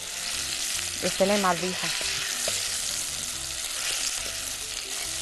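Kofta being stirred in a frying pan gives a steady, close sizzle and crackle that runs throughout, with someone briefly speaking over it.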